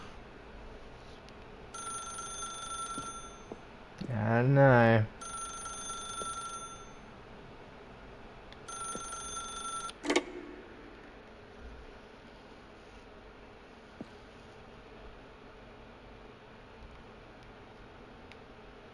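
A telephone rings in The Stanley Parable video game: three evenly spaced electronic bursts of ringing, a loud voiced sound between the first two and a click after the last, then a long, quiet stretch with a brief spoken line.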